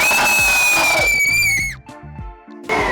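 An actress in a Hindi TV serial scene lets out a long, high, sustained scream, followed by dramatic musical stings and percussive hits. It is loud and close.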